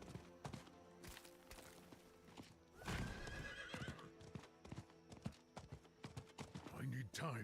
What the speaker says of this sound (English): My horse just got spooked a lot, I think.